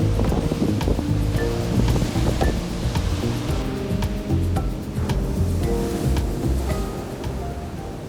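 Ocean surf rushes steadily onto a sandy Atlantic beach at Flagler Beach, a broad continuous roar with wind buffeting the microphone, loud and close throughout.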